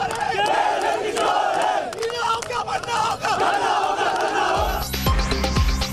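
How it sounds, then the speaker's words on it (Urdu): Protesters in Karachi chant slogans against K-Electric over load-shedding and overbilling, a loud massed crowd of voices shouting in rough unison, with a low rumble joining toward the end. "کے الیکٹرک کے خلاف نعرے بازی."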